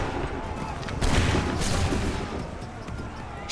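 A massed volley of musket fire in Assassin's Creed 3 erupts as a loud, rolling crackle of overlapping shots amid battlefield din, the burst swelling and then trailing off.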